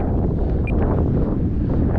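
Strong outdoor wind of about 18 mph buffets the microphone with a steady, heavy low roar that fills the whole stretch, with no talk.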